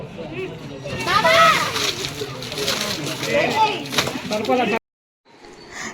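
Water from pots splashes over people at a summer wedding celebration, bursts of splashing and sloshing mixed with children's and adults' excited voices, loud and close, ending in a sudden cutoff.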